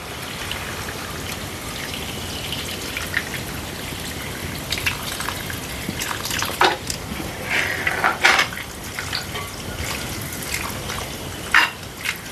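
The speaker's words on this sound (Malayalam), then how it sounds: "ഇനി നമുക്ക് ഇതിന് വേണ്ടുന്ന ആവശ്യത്തിനുള്ള വെള്ളം ഒഴിച്ചു കൊടുക്കാം" Water is poured into a pot of simmering homestyle chicken curry, giving a steady fizzing hiss with scattered splashes and a few sharp clinks and taps against the pot.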